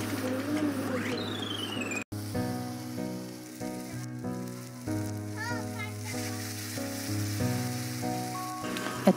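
Onion and tomato frying in a pan with a steady sizzle and occasional stirring, close and moderately loud. There is one sharp break near the start, and faint background sounds come and go.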